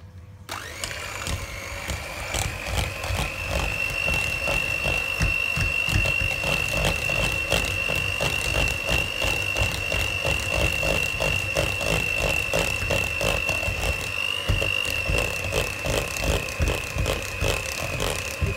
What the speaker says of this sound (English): your teaspoon of bicarb goes in, and we whisk this up